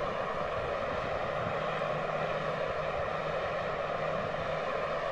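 Gas turbine starter of the T-45 jet trainer in the DCS flight simulator, a steady whining drone with a high tonal hum that holds evenly throughout, with no voices.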